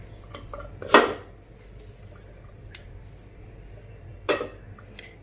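Potatoes crumbled by hand in a bowl for cutlets, heard as two sharp clinks of utensil on bowl with soft squishing and faint handling noise between them, close and without speech.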